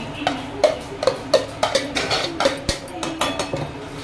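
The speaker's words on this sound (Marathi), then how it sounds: "आता याच्यामध्ये आपण सोयाबीनची जी भुर्जी तयार केलेली आहे हे टाकूया" Soybean bhurji tipped into a pan of fried onion-tomato masala, with a run of sharp, close spoon-on-pan knocks and scrapes in an uneven rhythm.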